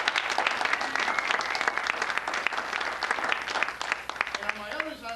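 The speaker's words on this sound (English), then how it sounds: "Please, a round of applause for Tomás Montoya." An audience applauds guitarist Tomás Montoya at a Gold Rush songs-and-stories performance, a dense wash of many hands clapping that stays loud and steady throughout, with a few voices rising near the end.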